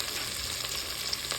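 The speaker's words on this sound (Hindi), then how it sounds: "इसी पॉइंट पर मैं यहाँ डाल रही हूँ कुटी हुई लाल मिर्च," Crushed red chili fries in a chicken karahi, giving a dense, steady close-up sizzle with faint stirring scrapes and a small crackle or two over a brief stretch.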